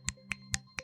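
Finger snapping used as applause at a local poetry reading, four crisp, quiet snaps spaced evenly across under a second, heard alone without talk.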